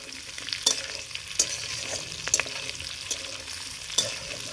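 Onions and bell peppers sizzle steadily in an oiled pan for a village-style mushroom chilli, with a few sharp clicks of a spoon stirring the pan over a constant fry.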